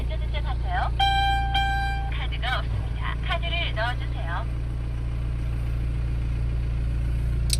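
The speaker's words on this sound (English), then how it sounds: "listen to the sounds of the engine" The diesel engine of a 2015 BMW X4 20d xDrive idles with a steady, low droning hum, while people talk over it nearby.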